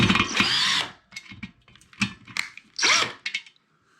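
A power drill loosens screws on a ceiling fan in several short whirring bursts, the first one longest, with ratcheting stops and gaps between the bursts, close and fairly loud.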